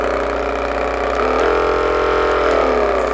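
A handheld massage gun set to manual speed one runs with a steady, fairly loud mechanical whir and buzz, holding an even pitch throughout with no talking.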